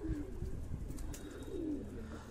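A dirty, hungry pigeon on a rooftop gives a few soft, throaty coos, close but quiet, over faint background noise with no talking.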